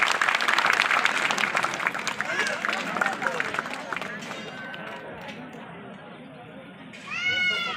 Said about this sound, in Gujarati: બધા ભાવથી આપણે એમને તાળીઓથી વધારશું